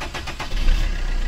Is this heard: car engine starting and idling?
yes